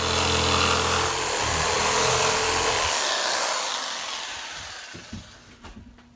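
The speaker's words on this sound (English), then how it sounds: "We got one hole to cut for the light." A power tool cuts a hole in a plywood ceiling panel for a light fixture during a bathroom remodel, a loud continuous whining roar that winds down and stops, leaving a few light knocks.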